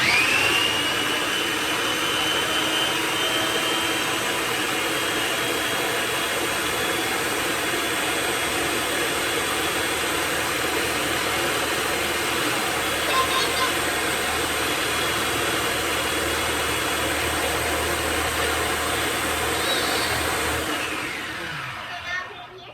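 An electric grinder whirs continuously at close range as it chops fresh garden herbs, a steady motor drone holding for about twenty seconds before winding down at the end.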